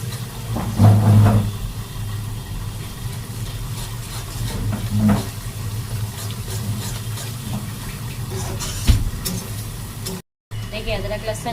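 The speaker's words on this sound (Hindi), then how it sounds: "देखिए अदरक लहसुन भून गए अच्छे से" Ginger garlic paste fries and is stirred in a pan for a keema dish, a steady close sizzle with scraping knocks, while a person talks over it.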